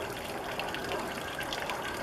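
Non-toxic potable antifreeze drains from the main fresh water tank of an Aliner camper onto the ground, a steady, continuous gush of splashing liquid with no speech.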